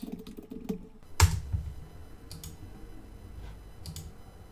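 Fast typing on a computer keyboard, a run of light clicks near the start followed by a sharp louder clack, then sparse faint keystrokes over a low room hum.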